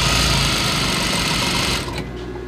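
High-speed sewing machine stitching fabric with the thread tension set very tight, a loud, fast, steady mechanical whir that stops abruptly near the end.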